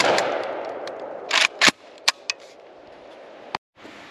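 Several loud, sharp shotgun blasts from an SGL Saiga 12 AK-pattern shotgun firing Federal ammunition, the shots spaced irregularly with a few quicker pairs, heard close against a quiet outdoor background.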